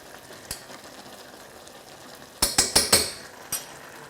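Parsley is stirred through peas in a pan: a spoon scrapes and clinks against the metal in a quick burst of several knocks over a faint sizzle.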